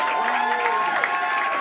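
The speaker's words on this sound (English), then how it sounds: "one more big round of applause before this gang gets up here" Steady crowd applause mixed with cheering fills the room for a college a cappella group at Wellesley, continuous and fairly loud throughout with faint voices in the mix.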